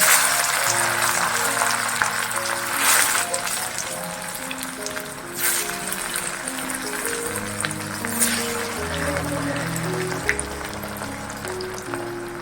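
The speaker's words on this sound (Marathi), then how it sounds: "आता आपण हे तेलात तळून घ्यायचं आहे त्यावेळेला गॅस मिडियम पेक्षाही कमी करायचा कमी आचेवरती तळून घ्यायचे" Stuffed bitter gourd with masala frying in oil over a low flame, a soft, continuous bubbling sizzle with occasional louder crackles, close and unaccompanied by talk.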